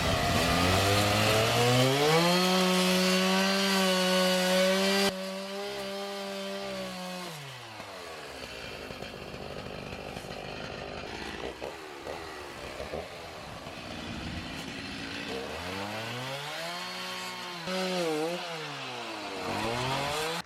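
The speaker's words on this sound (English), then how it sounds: "he's going to get the chainsaw and he said that right now he is going to cut off these bushes" A chainsaw cuts bushes down to the ground at a farmhouse front porch, its engine revving high and steady at first, then bogging and dropping as it bites into stems, rising again in bursts near the end.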